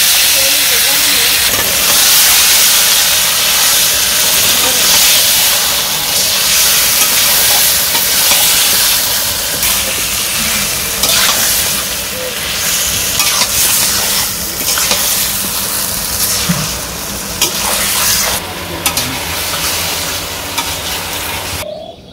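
Marinated chicken fries and is stirred in a pan for a village-style chicken curry, with a steady loud sizzle and hiss overlaid by scraping stir strokes throughout.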